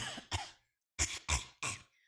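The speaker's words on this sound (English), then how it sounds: "You can hear it in my coughs." A sick streamer coughs and clears his throat: a pair of quick coughs, a pause, then three harsh, close coughs in a row, loud and alone with no talk.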